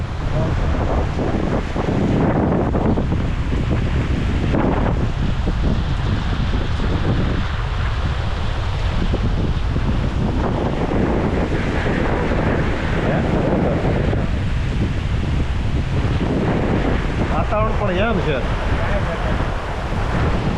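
Strong wind roars and buffets the microphone over choppy waves on the rain-swollen Malanka dam reservoir, a continuous loud wash of gusts and surf with faint voices now and then.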